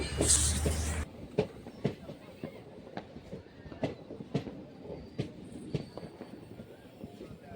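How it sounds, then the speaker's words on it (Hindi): The Rameshwaram Express, hauled by a WAP 7 electric locomotive, arrives at platform 6 of Chengalpattu Junction, with steady rhythmic clicking of wheels over rail joints. A brief louder burst opens the scene, and the track clatter stays moderately near. "रामेश्वरम एक्सप्रेस का अराइवल हो रहा है चेंगलपेट्टू जंक्शन के प्लेटफॉर्म नंबर 6 पर।"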